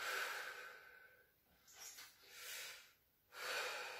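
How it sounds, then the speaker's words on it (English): Deep, slow breaths during a cardio workout cool-down stretch: long hissing inhales and exhales up close, rising and falling in a steady cycle with no talking. "Take some deep breaths."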